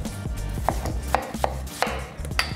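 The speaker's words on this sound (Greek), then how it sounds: "Θα κόψουμε τα κομματάκια μας." Knife chopping watermelon pieces on a board before blending, about six sharp evenly spaced chops close up with a low kitchen hum underneath.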